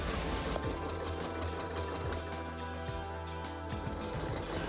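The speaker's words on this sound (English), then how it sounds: "I'm trying very hard to keep to the very edge of the binding and sewing it on that" Sewing machine running steadily as it stitches binding along the very edge of a quilt, a continuous close mechanical whir with a rapid regular needle rhythm and small pauses, no talking.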